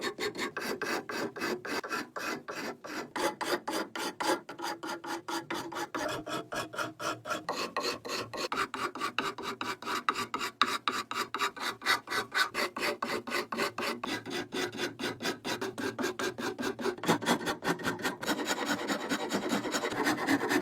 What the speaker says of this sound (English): he grabs a wood rasp to meticulously sculpt the handle's precise contours